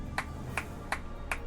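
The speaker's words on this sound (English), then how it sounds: "hollow clap suddenly filled the room" Four evenly spaced hollow claps ring out in Limbus Company, each one sharp and resonant over a low steady background hum.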